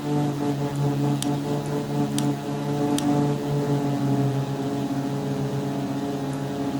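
Carenado B58 Baron twin piston engines with propellers at reduced RPM in the X-Plane flight simulator with the SimCoders Reality Expansion Pack, a steady droning hum with layered harmonics, a few faint clicks, no talk.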